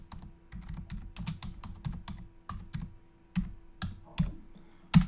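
Quick bursts of typing on a computer keyboard, close and crisp, uneven clusters of key taps with short pauses and a firmer final keystroke.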